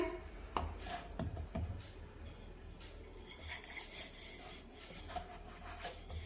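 A rolling pin works sesame and jaggery poli dough on a board, giving soft repeated rubbing strokes with a few light taps, close and quiet.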